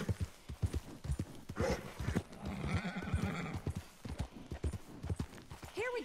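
A horse in the video game Red Dead Redemption 2 gives rhythmic, close hoof clip-clops, then a loud neigh in the middle, with more clopping after it.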